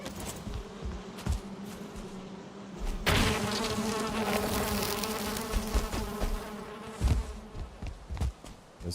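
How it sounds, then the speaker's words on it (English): In the Valheim video game, a bee swarm gives off a steady droning buzz that grows louder partway through, with soft thuds and clicks of game action over it and no speech. "another bee."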